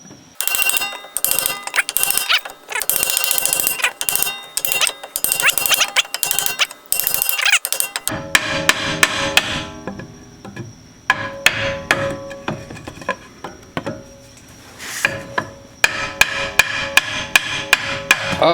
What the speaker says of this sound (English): Now he's taking a hammer and he's pounding on it.